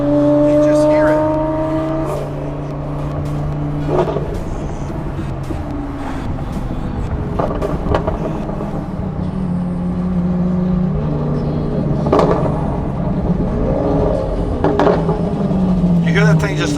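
A Lamborghini Aventador revs repeatedly nearby, its exhaust crackling and popping between loud rising and falling engine pulls, with a person talking over the noise.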